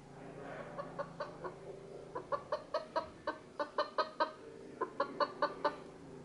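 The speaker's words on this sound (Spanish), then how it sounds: "Aquí viene un sonido de pollo" A series of recorded chicken clucks played from an Amazon Echo Spot smart speaker in quick, uneven bursts, with a low steady hum underneath and no talking.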